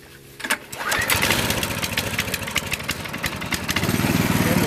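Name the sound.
Honda CT200 motorcycle engine starting with new Amazon carburetor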